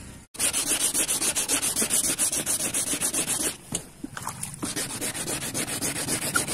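A yellowed car headlight lens being sanded by hand with sandpaper, giving steady rapid scratchy rubbing strokes close up, with a brief pause midway before the rhythmic scraping resumes.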